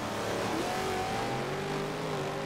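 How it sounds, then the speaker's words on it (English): Bentley race car engine in the Forza Motorsport 7 racing game, a steady sustained drone with rising pitch as it accelerates, loud and close, with no talk over it. "I love the sound of that Bentley."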